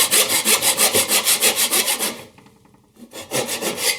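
A hand saw rasps rhythmically through a wooden tenon started at a knife wall, quick even back-and-forth strokes close up, pausing briefly before sawing resumes.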